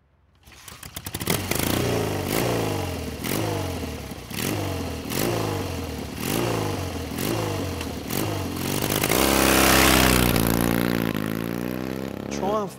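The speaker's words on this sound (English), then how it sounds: "The KTM Super Duke 1290R actually has a 1301cc V-twin power plant." A KTM Super Duke 1290R motorcycle with a 1301cc V-twin revs in repeated sharp rising bursts, then a longer sustained high rev near the end, loud and close.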